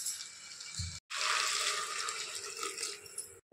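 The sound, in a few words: water being poured into a pan of cooking vegetables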